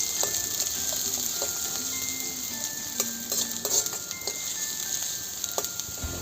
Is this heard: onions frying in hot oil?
yes